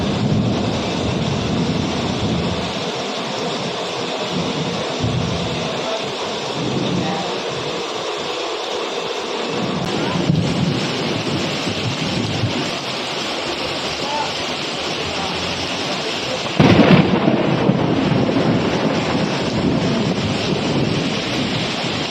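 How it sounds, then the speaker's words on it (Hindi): Steady heavy rain pours outdoors in Akola, Vidarbha, with low rumbling thunder rolling through, loud and continuous with a sharper burst near the end. "बारिश होती रही, जो शुक्रवार सुबह तक जारी रही।"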